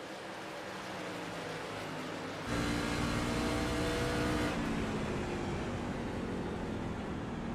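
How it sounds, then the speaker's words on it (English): A race truck engine in a truck series race at World Wide Technology Raceway Gateway drones steadily, then rises sharply into louder revving before easing back down as it downshifts, a continuous close engine roar with no talk over it. "Looks like you hear him downshift there a little bit."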